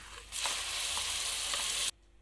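Ground chana dal frying in a pan for halwa, a steady loud sizzle that starts abruptly, holds for about a second and a half, then cuts off, with no talking.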